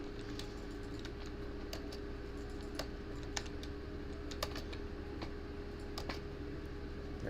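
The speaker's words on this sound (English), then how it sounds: "If you were hearing some banging or some rattling, sorry about that. My keyboard was at a weird angle" Computer keyboard at a tilted angle rattling and clacking on a table during PC game play, with irregular sharp taps over a steady low hum and no talking.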